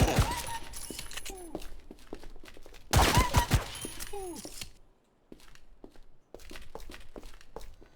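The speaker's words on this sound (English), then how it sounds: "Mike being absolutely savage with the heavy SMG there" Heavy SMG gunfire in the ADACA Zone Patrol video game, bursts of sharp rapid shots in two loud clusters, with gaps and smaller effects in between.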